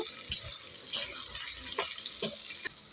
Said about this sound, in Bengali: টমেটো কুচিটা দিয়ে একটু ভেজে নেব।